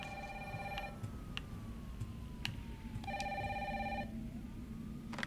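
A telephone rings in the video game Resident Evil 3, sounding in two long bursts of a bright electronic trill with a pause between them, over a low ambient hum.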